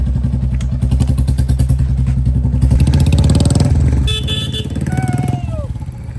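Motorcycles rev and pull away nearby on a friends' group trip, engines loud and throbbing, with a horn toot and a few clattering thumps as they set off.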